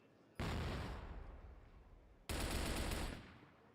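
Rapid automatic gunfire in the shooting game CrossFire, played at an esports tournament: two sustained, loud bursts of continuous fire separated by a short pause.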